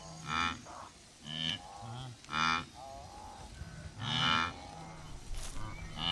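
A wildebeest herd on migration gives several loud, deep lowing grunts in separate bursts, some overlapping, with a steady outdoor background between the calls.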